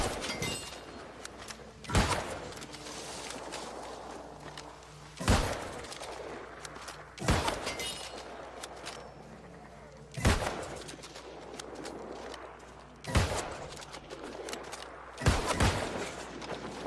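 Rifle shots in the online game New World, six sharp single reports spaced a few seconds apart, each a loud broadband crack over a steady murmur of game ambience.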